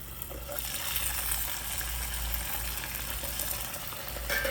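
Batches of potato fries bubble steadily in a pot of hot oil, a continuous, fairly loud sizzle with a soft low rumble underneath, holding even for several seconds with no talking.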